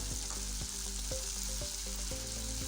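Potatoes and turnips drop into a pan of tomatoes for shalgam aloo bhujia, setting off a steady, loud sizzle with a few spoon scrapes and clinks through it.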